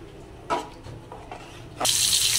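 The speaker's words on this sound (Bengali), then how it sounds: "তো পানি দিয়ে দিতেছি" Warm water is poured into a pot of khichuri, a brief splash followed by a steady rushing pour that grows louder toward the end.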